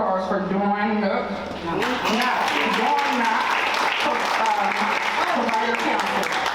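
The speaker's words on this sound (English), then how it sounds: "And one more, give a round of applause for Dawn Nook." An audience at a parents' convening and report release breaks into applause after a host's spoken introduction, with dense, sustained clapping that stays loud for several seconds.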